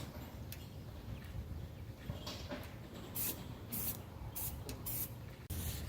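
Aerosol spray coat applied in short bursts, several loud hissing sprays a second or so apart, close by and alone with no talking.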